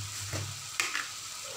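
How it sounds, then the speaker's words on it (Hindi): Tomato masala frying in a pan with salt being added, a soft steady sizzle with a brief stir and a scrape of the utensil near the middle, close and quiet, no voices. "तो अब मैं इसको थोड़ी देर के लिए फ्राई करूंगी और टमाटर को गलने दूंगी।"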